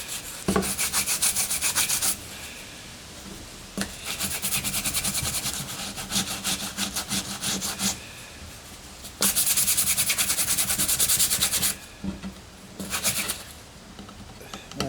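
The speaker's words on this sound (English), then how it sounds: "lightly sand again with like some 120" A repaired wooden staircase baluster is lightly sanded by hand with 120-grit sandpaper, heard as close, brisk rubbing strokes in bursts separated by short pauses, with no talking.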